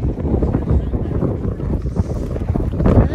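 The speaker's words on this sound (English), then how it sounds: "the wind is making it very cold" Cold wind buffets the microphone outdoors on a desert trail, with a heavy, continuous low rumble that surges and eases, and a voice is faintly present underneath.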